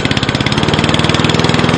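A Cobra MX46SPCE petrol 4-in-1 lawnmower engine runs after starting, a loud, close, steady chugging putter with rapid regular pulses.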